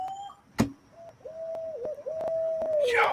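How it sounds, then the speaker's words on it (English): A bird calls outside at night, a sustained wavering whistle-like note after a sharp click, fairly clear and close, with a rustle at the end. "y'all hear that bird?"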